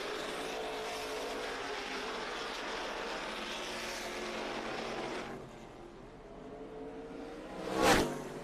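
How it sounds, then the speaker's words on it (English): Race cars on a rough short track at Lonesome Pine Motorsports Park blast past in a loud engine roar that fades away, then one more car rips by close with a sharp, brief surge. "You see them fly by our speed shot underneath the flagman here at Lonesome Pine Motorsports Park"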